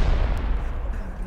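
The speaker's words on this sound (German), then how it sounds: "Was explodiert denn hier noch?" Dense, rumbling explosions in the game Rust roll together in a heavy, continuous barrage, loud and close, with no clear gaps between them.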